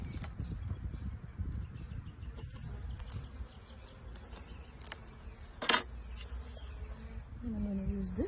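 Honeybees buzz steadily around beehive frames lifted out for a gentle hive inspection, a low continuous drone with one sharp click of a tool against the wood midway and no talking.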